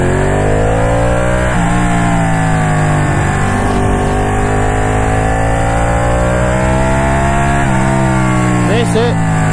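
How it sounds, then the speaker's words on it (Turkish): Motorcycle engine idling and lightly revving at a service shop, a steady loud close rumble with slow pitch rises and falls throughout. "Bir dedim motorun bir sesini duymak istiyorum."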